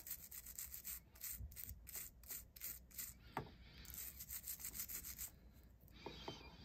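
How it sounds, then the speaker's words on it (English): Bristle brush scrubbing a vintage ring with detailed nooks and a split band, a quiet steady rubbing and scratching with rhythmic strokes throughout, close and soft. "this ring has some nice little nooks and crannies, so I'm going to give this one a scrub."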